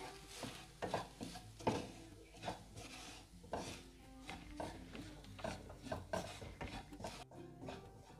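Chaat masala, black pepper and garam masala being mixed together in a bowl, with repeated soft scraping and clinking strokes of a spoon against the dish in an uneven rhythm, close and fairly quiet.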